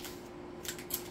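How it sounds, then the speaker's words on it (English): Two quick, crisp scissor snips cut through stiff plastic food packaging over a low steady hum, close and fairly quiet. "Doesn't open, you just cut it with the scissors."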